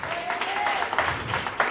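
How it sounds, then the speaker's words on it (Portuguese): A church congregation at a Sunday service breaks into applause, scattered clapping swelling in bursts, with a sustained tone and some voices mixed in beneath. "dava um aplauso e dava glória a Deus"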